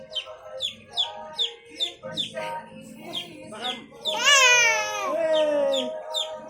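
Hungry chicks (sisiw) chirp in quick, repeated high peeps close by, joined midway by a louder, longer fowl-like call, with people talking around them.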